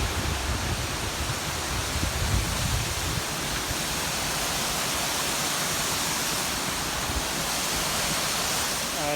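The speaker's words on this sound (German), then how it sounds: "And here is the waterfall. Wasserfall mitten in der Stadt." Steady roar of a waterfall in Falls Park, in the middle of a city, a dense broadband rush of falling water that holds constant and loud from start to finish with no voices over it.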